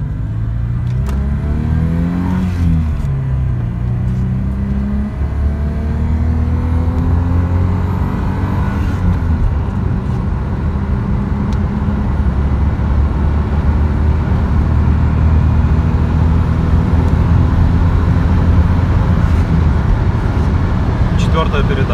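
An Audi 2.6 ABC engine pulls hard through the gears of a five-speed manual gearbox, a loud, steady in-car drone climbing in pitch between shifts, with someone talking over it.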